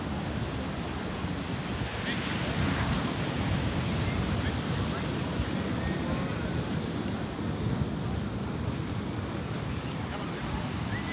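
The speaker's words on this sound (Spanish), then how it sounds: "Están unas olas de wow" Ocean surf breaking at Puerto Escondido beach, a steady loud wash of waves mixed with wind noise on the microphone throughout, with no clear separate breaks.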